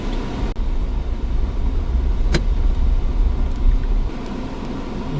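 A car engine rumbles low and steady while the vehicle reverses on a road trip near Deogarh, with a couple of sharp clicks and no talking.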